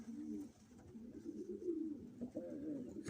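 A Turkish Takla cock pigeon sitting on a pair of eggs coos in a steady, low, rolling murmur close by, a continuous soft purring call with brief rises throughout.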